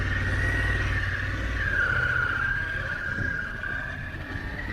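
A 2021 Harley-Davidson Pan America motorcycle pulls away on gravel, its engine note rising steadily and staying loud and close before easing slightly as it moves off.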